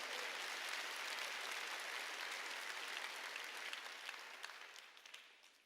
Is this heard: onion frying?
no